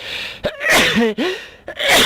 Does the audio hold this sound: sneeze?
yes